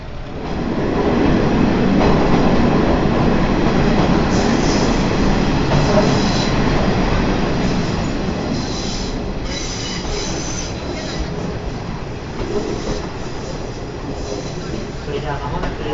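A Watarase Keikoku Railway trolley train runs along its rails with a steady, loud rumble, rattling wheels and some squealing. Heard from on board, with faint talk in the background.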